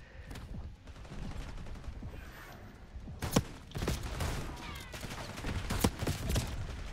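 Shotgun blasts in the shooter game Black Ops 6, several sharp booming shots at irregular intervals amid a dense mix of other gunfire and game effects.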